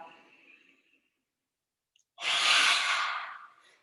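Deep breathing during a prenatal yoga session: a faint breath fades into a pause, followed by a long, loud, close, airy exhale lasting over a second, with no speech.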